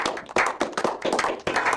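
Audience clapping in a short burst, close and fairly loud, uneven rapid slaps from several hands.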